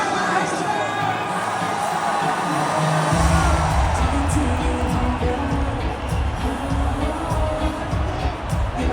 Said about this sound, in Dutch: Geef een fantastisch applaus.